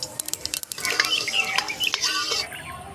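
Panch phoron spices hitting hot mustard oil in a kadai for mango pickle, heard as a sudden loud crackling sizzle with quick pops and spatters, close and without talk.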